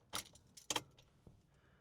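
The digital flip key of a Tata Tiago 2025 jangles in two quick bursts of metallic clinks, close and faint, followed by a soft click as the car switches on.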